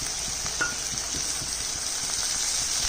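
A paste of coriander and cumin mixed with water fries with lightly browned onions in a pan, giving a steady, close sizzle with soft stirring scrapes.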